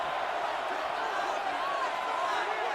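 Steady roar of a simulated football stadium crowd in a Buccaneers at Rams video game matchup, building on third down, a dense continuous wash of cheering throughout.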